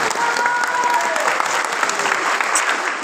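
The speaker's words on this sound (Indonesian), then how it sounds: "tepuk tangan Pak Bupati." Steady audience applause at a PKB legislative candidates' training event in North Sumatra, dense and continuous for the full stretch with a faint crowd murmur beneath.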